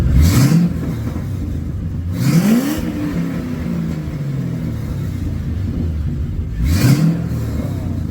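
A 2005 Ford Mustang GT with an upgraded exhaust revs three times, each a sharp rising roar that drops off, with a low, quiet idle rumbling between the bursts. The sound is close and there is no talking.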